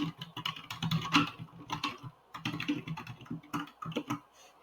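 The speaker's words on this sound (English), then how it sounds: "hit Control A to select everything and type whatever I want to say" Bursts of keyboard typing on a computer in a classroom-prep setting, quick irregular clusters of keystrokes with brief pauses, close and moderately loud with no talking.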